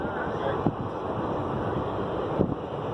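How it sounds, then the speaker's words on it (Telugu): A cool wind buffets the microphone in a steady, close roar, with a couple of brief bumps and no clear speech. "చల్లగా గాలి వస్తుంది నాకు."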